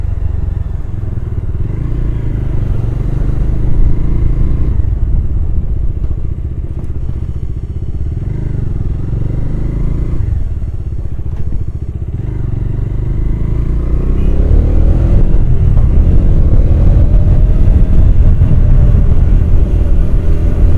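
A motorcycle cruising along a foggy early-morning city road, with a steady loud engine drone and wind rumble throughout and occasional bumps and clatter as it rolls on.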